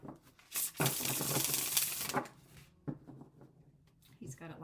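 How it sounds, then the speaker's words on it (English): Tarot cards being shuffled at a table, a close burst of rapid riffling papery flutter lasting over a second, followed by softer card handling and a second brief shuffle, with quiet speech around it. "That was a perfect shuffle."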